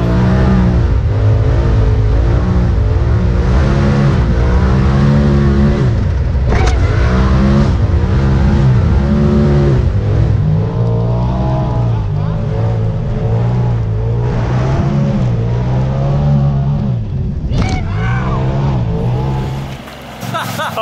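A Polaris RZR Turbo S off-road vehicle roars loudly and continuously as it drives through a whoop section and hits a jump, its engine revving and surging up close while people shout excitedly.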